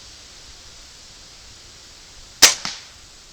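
.22 caliber air rifle firing a pellet outdoors, a single sharp close crack followed a moment later by a fainter second report, over quiet background hiss.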